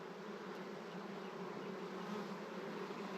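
Honeybees swarm over a hive frame during queen rearing, a dense, continuous buzz that holds steady and close throughout, with no voices.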